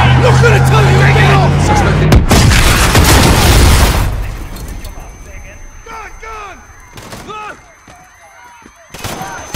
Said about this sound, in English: There's been a detonation at Piccadilly Circus.